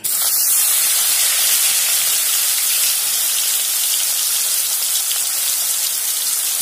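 Boiled mushrooms frying in hot oil in a kadai make a loud, dense, unbroken spray-like sizzle that starts at once and stays nearly level throughout, close to the microphone with no voices.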